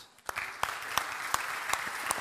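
Audience clapping at a church retreat, a steady patter of hands with evenly spaced sharper claps cutting through, moderately close and fairly soft, with no talking over it.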